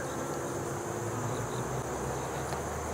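Honey bees swarm around their hive in bright sun, a dense, continuous buzzing close by with no pauses.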